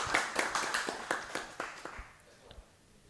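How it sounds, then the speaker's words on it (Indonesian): Scattered clapping from a modest audience at an evening community talk event in Banyuwangi, a loose burst of claps near at hand that thins out and fades over a few seconds. "Sekali lagi tepuk tangan yang meriah untuk kita semuanya"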